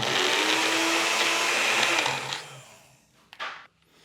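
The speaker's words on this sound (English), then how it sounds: "Let's get our lid on here and get it blended up." A blender whirs loudly and steadily as it purées dried red chili pepper with seafood stock into a paste for blue crab curry, then winds down into quiet with a brief knock near the end.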